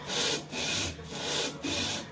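Dry hand sanding with 240-grit sandpaper, no water, on a motorcycle part being repaired for overheating: three rhythmic back-and-forth scrubbing strokes of coarse rasping friction, close and steady, with no talking.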